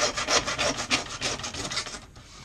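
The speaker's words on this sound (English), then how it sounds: "you get your bone saw and just saw all the way through" A bone saw rasps back and forth through roe deer bone during home butchering, in quick, rhythmic strokes, close by, about a dozen cuts before easing off.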